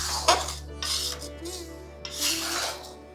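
Salted peanuts stirred in a pan over a medium-low gas flame, giving dry rasping scrapes in a few short bursts over a steady low hum.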